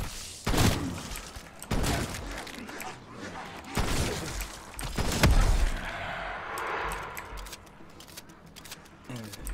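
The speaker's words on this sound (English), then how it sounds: "Explosion radius on these dogs is weird." Exploding dogs in a shooter video game blast in several heavy booming bursts with sharp cracks between them, followed by quieter scattered clatter and rumble as the action continues.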